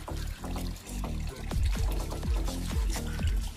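Pond filter water falling from a pump into a bucket holding sponge and volcanic rock, a continuous close splashing pour with repeated gurgling drops.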